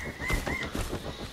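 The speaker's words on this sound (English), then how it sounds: "Jeez, I don't want freaking birds." Birds in the video game Far Cry 3 caw and honk in a rough, rasping cluster over a noisy, busy game soundscape. The calls come at moderate loudness with no talking.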